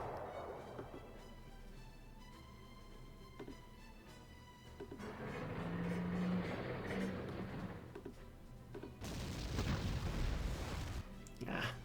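Bombing strike in the Panzer Corps war strategy game, a soft distant rumble leading into a heavier sustained explosion and a sharp final blast burst, quiet overall with a voice talking over it.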